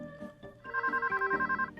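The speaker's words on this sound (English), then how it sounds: "Your computer's ringing." Intel computer video phone ringing: a warbling electronic ring tone pulsing in rapid even bursts, moderately loud after a few soft clicks at the start, with no talking.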